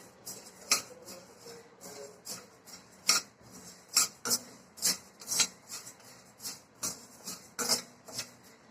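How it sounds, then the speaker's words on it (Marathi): Sago pearls dry-roasting in a pan for vrat laddu, giving a series of sharp, scattered crackles and rasping scrapes, fairly close, with no talking. "साबुदाणे थोडे तडतडायला लागलेले आहेत"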